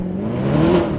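Mercedes-AMG SLS Black Series, a naturally aspirated engine without turbos, roars loudly and steadily through its exhaust, its pitch climbing as the revs rise, heard alone and close.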